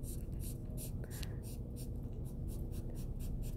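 A permanent marker squeaks and scratches as it draws lines on paper for a second-grade art lesson, heard as close, continuous strokes with faint room noise underneath.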